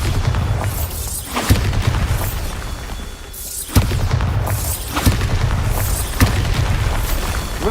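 Repeated Bombarda blasting spells go off in Hogwarts Legacy, five or six sharp booming explosions roughly a second apart over a dense, rumbling backdrop of game noise.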